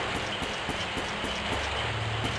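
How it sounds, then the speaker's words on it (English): Steady rain falls in a fantasy role-playing game, a dense even patter of drops across the whole stretch, moderately loud and alone with no voices. "Yeah, the rain here is poison. In a moment, this rain will turn red."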